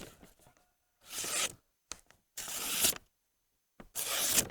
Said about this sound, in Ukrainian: Давайте спробую порізати е, папірець, звичайний А4.